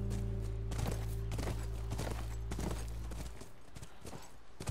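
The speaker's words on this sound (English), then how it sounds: "That's our horse." Horse hooves clip-clop at an even walking pace in The Last of Us Remastered near a ranch, about seven distinct hoof strikes over a steady low hum that drops away near the end.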